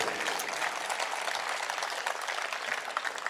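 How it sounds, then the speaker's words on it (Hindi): Audience applause at a Hindi poetry recitation, a steady dense wash of clapping at moderate level filling the whole stretch with no break. "तो एक बार जोर से तालियां उठाइएगा।"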